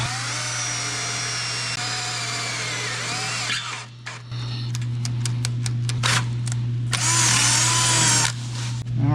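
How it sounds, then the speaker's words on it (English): A power drill with a freshly sharpened bit whines steadily, then bites into the workpiece in a run of short bursts and stops before a longer steady run, loud and close with no talking. "And I just sharpened this bit, so it's drilling really well."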